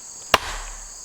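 A single sharp axe chop with an HB Cruiser axe through a wet 9.5-inch oak log onto a stump behind it, one close crack followed by a short low settling rumble.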